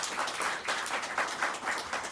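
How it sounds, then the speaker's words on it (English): Audience at a city economic development presentation gives a round of applause, a continuous patter of many hands clapping at moderate volume in a room, steady and unbroken throughout. "How about a big round of applause for"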